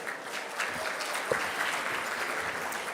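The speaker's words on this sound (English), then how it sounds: "Can we give our Honorable Vice President Brian Colon a round of applause" An audience at a Medicaid policy luncheon claps steadily for a few seconds, a dense even patter heard from within the hall at moderate volume.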